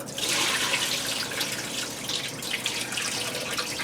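Tap water runs and splashes into a bowl as sushi rice is rinsed for California rolls, a steady close hiss of pouring water with slight sloshing and no speech.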